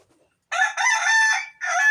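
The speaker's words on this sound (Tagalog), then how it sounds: "Ayun, may manok. May umalong manok." A rooster crows loudly and close by in one long, strained call that breaks briefly near the end and then resumes, with no other sound around it.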